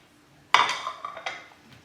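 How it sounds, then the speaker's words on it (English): A utensil clinks and scrapes against a bowl while margarine or butter is creamed with brown sugar for eggless oat cookie dough: one sharp knock, then several lighter clinks fading over a second or so. "you're going to start off by mixing the margarine or butter with your"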